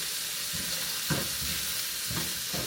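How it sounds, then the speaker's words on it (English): Shrimp caramelizing with soy sauce in a hot frying pan, a steady close sizzle with occasional soft stirring scrapes. "So now, caramelizing the shrimp with that soy."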